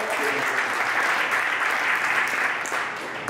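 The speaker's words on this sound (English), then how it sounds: "Clap for her." A crowd at a Baltimore business talk claps loudly and continuously, a thick roar of applause that holds steady and eases off slightly at the end.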